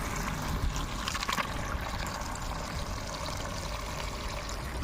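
Tap water runs into a bucket at a car wash, a soft, continuous splashing trickle of liquid heard fairly faintly and alone.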